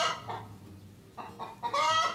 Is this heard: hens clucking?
yes